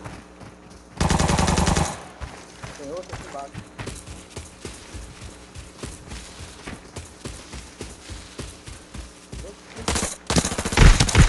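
Gunfire in the shooter game Arena Breakout: a loud sustained automatic burst, then scattered shots and footstep-like taps under players talking, and a final heavy burst of fire at the end.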